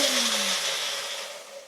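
A cheap Magic Bullet blender whirs loudly and steadily, with a harsh high-pitched motor whine that fades slightly toward the end.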